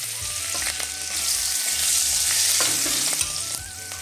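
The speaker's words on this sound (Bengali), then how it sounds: "ওই তেলের মধ্যে আমি দিয়ে দিচ্ছি কালো জিরে ফোড়ন আর দিয়ে দিচ্ছি চেরা কাঁচা লঙ্কা" Nigella seeds and slit green chillies hit hot oil for mustard eggplant, giving a loud, steady sizzle with stirring scrapes throughout and no voices.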